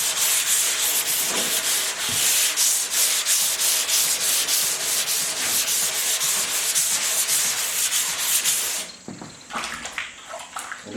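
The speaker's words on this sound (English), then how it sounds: "and you start sanding" Car body filler on a Willys CJ5 body is wet-sanded by hand with wet sandpaper on a sanding block, making a steady, rhythmic rasping scrub of quick strokes that stops near the end.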